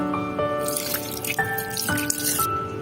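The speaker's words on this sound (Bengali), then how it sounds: "একটু পানি দিয়ে দেব" Water splashes and trickles from a hand into raw beef being mixed with oil in a pot, a steady wet pouring with a few brighter drips and no talking.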